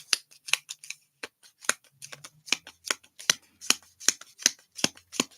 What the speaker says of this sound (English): He's gotten good at shuffling like that.